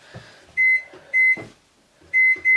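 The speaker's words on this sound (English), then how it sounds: "microwave it for 45 to 60 seconds" An eight-year-old kitchen microwave oven sounds four sharp, loud electronic beeps in two pairs, with faint handling clatter and a low hum between them.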